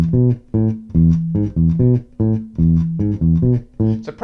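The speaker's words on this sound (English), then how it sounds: "So we end up with a 1-bar bass riff which sounds like this" A clean bass guitar plays a short, repeating one-bar riff, plucked notes loud and close, with a bouncy, syncopated rhythm and no other instruments.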